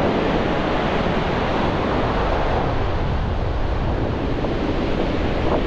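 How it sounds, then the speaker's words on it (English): Ocean surf rolling onto Woolacombe Beach in North Devon, a continuous loud roar of breaking waves with wind buffeting the microphone throughout. "Look at that surf, it's absolutely perfect for bass."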